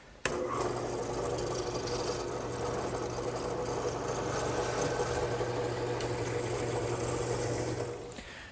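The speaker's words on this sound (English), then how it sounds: "I'll use my drill press with the mortising attachment" A drill press with a mortising attachment runs with a steady mechanical hum while its cutter grinds and rasps into wood continuously for several seconds, close by.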